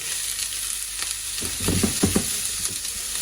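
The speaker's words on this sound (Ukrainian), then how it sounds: "Смажу на невеликій кількості олії" Onion frying in a little oil in a heated pan, a steady near hiss with a brief burst of louder crackling and stirring scrapes midway, no talking.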